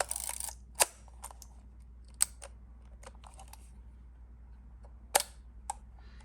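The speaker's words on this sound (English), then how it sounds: "you just cock your shutter and you press it" Sparse mechanical clicks from the shutter of a Yashica Electro 35 GSN rangefinder film camera in bulb mode, a few sharp snaps separated by quiet pauses, close and isolated in a hushed room.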